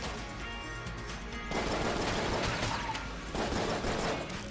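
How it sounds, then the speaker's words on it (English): Rapid piercing gunfire in the Enter the Gungeon video game, dense continuous bursts of shots with brief lulls, loud and close, no talk. "I do love that we have these piercing shots"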